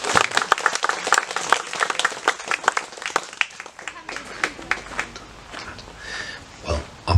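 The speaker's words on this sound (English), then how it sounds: "A round of applause for that, I think." Wedding guests clap at a ceremony, a dense round of applause with sharp individual claps for several seconds, thinning toward the end, with voices murmuring underneath.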